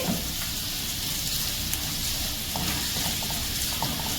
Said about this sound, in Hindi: साथ ही में हम डालेंगे जिंजर एंड गार्लिक और इसे एक अच्छा सा मिक्स देते हैं 30 सेकंड्स के लिए।